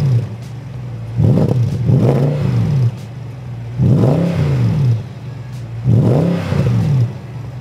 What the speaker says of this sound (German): Dieser kernige Klang von diesem AMG Motor